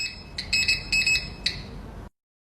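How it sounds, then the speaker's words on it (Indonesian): Magnet detector held against a sanitary pad, giving a series of thin, high electronic beeps over a low hum that cut off abruptly, with no talking. "Detektor ini ditempelkan kepada lembaran CPU yang hijau, itu akan mengeluarkan suara."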